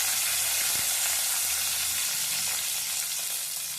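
Bay leaf, cinnamon, cloves, cardamom and fennel frying in hot oil, giving a dense, loud, continuous sizzle with faint stirring underneath and no speech.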